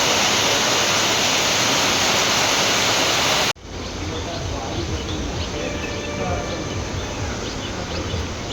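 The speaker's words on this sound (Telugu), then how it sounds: "డే 2 పొద్దునే వర్షం స్టార్ట్ అయిపోయింది." Morning rain falls hard and steady as a loud, even rushing hiss, then drops abruptly to a softer but continuous downpour with faint background sounds.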